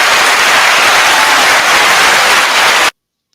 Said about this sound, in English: Round of applause for Sosa.